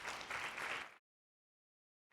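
A short burst of audience clapping at a real estate listing presentation, loud and close for about a second, then cut to silence.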